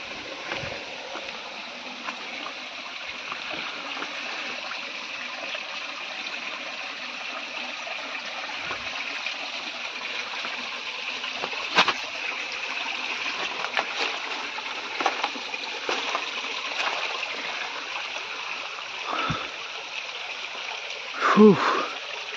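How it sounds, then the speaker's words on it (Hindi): A waterfall in a winter forest on a mountain gives a continuous broadband rushing roar, steady and fairly close, with a few faint knocks and no voices. "तो ये रहा वाटरफॉल जो अपन नीचे से देख रहे थे।"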